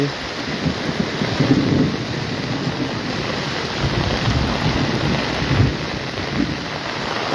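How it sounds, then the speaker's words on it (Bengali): Heavy rain pours steadily during a storm in Cumilla, with low thunder rumbling several times beneath the constant hiss and wind buffeting the microphone. "প্রচন্ড বৃষ্টি"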